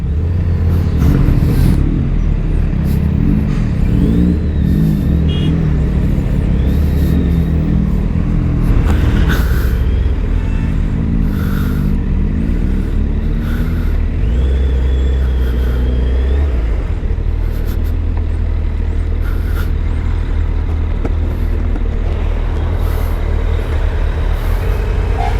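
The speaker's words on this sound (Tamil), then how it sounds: "இந்த லாரி பஸ்ஸு இதெல்லாம் போகுது பார்த்தீங்களா, இந்த பிரிட்ஜ் அப்படியே வைப்ரேட் ஆகுங்க" Lorries and buses rumble loudly across a bridge, with heavy engine drone, hiss of air brakes and revving passing close by throughout.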